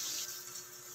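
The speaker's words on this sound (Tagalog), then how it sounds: "maglalagay tayo ng tubig" Water poured into a pot of pork tumbong pares stew, a brief steady hissing rush of liquid heard close up with no talking.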